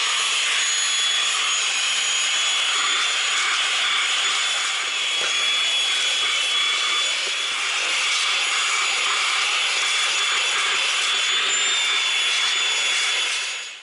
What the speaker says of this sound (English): So I got my little portable Milwaukee vac.